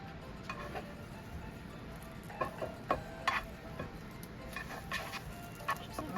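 A chile relleno frying in a pan gives a soft, steady sizzle with scattered light pops and ticks, quiet and close, with no talking.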